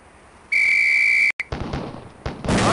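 A shrill, steady whistle blast signals a volley in the 1995 game Police Quest: SWAT, cut off abruptly and followed by a ragged burst of loud shotgun fire.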